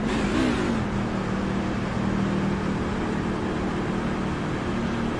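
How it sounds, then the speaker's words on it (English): A NASCAR truck engine in a racing video game gives a brief rev to clear its spark plugs, a loud, steady mid-pitched roar that rises at the start and then holds a constant drone. "Mickelmore there just gives it a little rev,"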